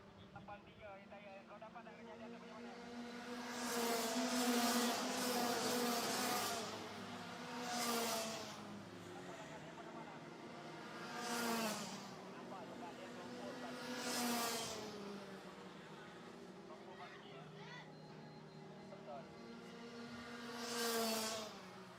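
Rotax Max racing karts scream along the track during a Rotax Max Challenge Asia race, high-pitched engines rising and falling as they sweep past in waves, while a commentator talks over them.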